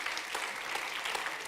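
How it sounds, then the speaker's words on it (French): An audience at an award ceremony claps for the nominees, steady even applause at a moderate level that runs throughout without any speech. "on peut applaudir aussi bien sûr les autres nommés de cette catégorie"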